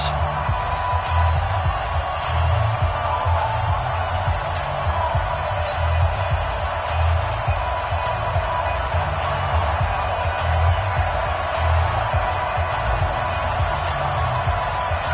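Stadium crowd noise in a football video game before an Eagles versus Packers matchup: a steady, fairly loud broadband crowd ambience with low, rhythmic thumping pulses underneath.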